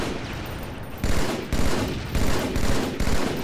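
Video game gunfire rattles out in a steady run of loud, heavy shots, bursting roughly every half second with short gaps between, close and dense with no talking.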